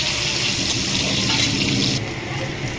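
Three medium chopped onions sizzle and fry in a pan for mutton kosha, a continuous bright crackle heard up close with no voices.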